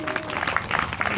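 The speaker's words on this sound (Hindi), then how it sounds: "सभी माताओं बहनों से ताली बजाकर तालियों से उनका स्वागत करें" An audience of village women at a gathering in Kaimri, Haryana, briefly claps to welcome a former state minister; the applause is a short burst of scattered hand claps over faint voices.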